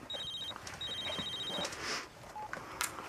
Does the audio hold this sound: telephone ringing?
yes